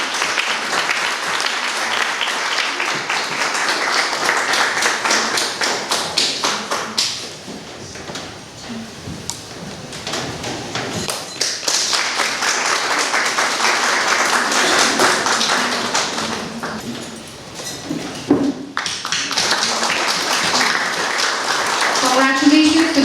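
Audience applause for the winners of an inter-school PowerPoint competition, dense clapping from a crowd that swells, dips briefly, then builds again, with talk and cheering mixed in.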